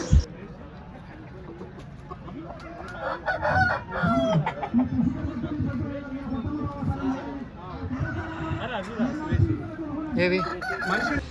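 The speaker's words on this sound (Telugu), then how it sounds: "ఇంకా పందెం కోసం తీసుకొచ్చిన కోళ్ళని చూడండి" Several fighting roosters, kept in baskets at a Sankranti cockfight in Konaseema, crow and cluck repeatedly at close range, their calls overlapping amid a busy crowd of people talking.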